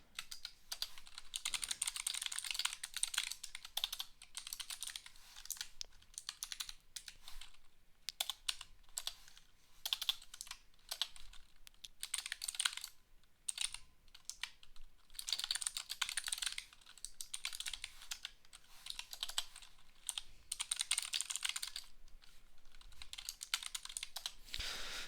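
A computer keyboard clatters during programming work, with rapid irregular bursts of keystrokes and short pauses, close and moderately quiet, with no voices.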